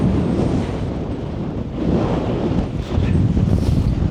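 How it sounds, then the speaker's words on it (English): Strong, constant wind of about 30 to 40 mph roars across a mountain summit, buffeting the microphone with loud, continuous rumbling gusts and no talking. "So at the top here, we've probably got a constant 30 to 40 mile an hour wind. It's really pushing."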